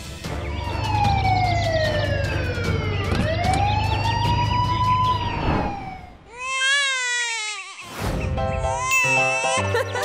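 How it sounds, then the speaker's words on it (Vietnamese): An ambulance siren wails loudly and steadily for about six seconds, rising and falling in long sweeps, followed by a brief pause and then other sharp, warbling electronic sounds. "Hãy cho tôi một chiếc xe cứu thương tới."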